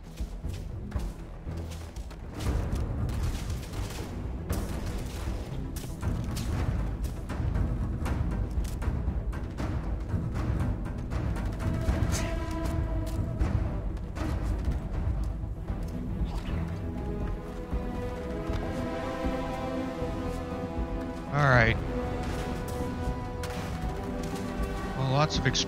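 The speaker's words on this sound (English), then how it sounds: "Explosions." Repeated booms and thuds pound in a dense, irregular stream of Starfield explosions and gunfire, with voices talking over them.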